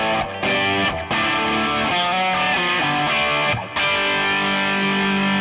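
An electric guitar plays a rhythm part through a dirty, distorted Marshall-style amp model on a Digitech RP355 multi-effects pedal, with loud sustained chords and a few sharp re-strikes.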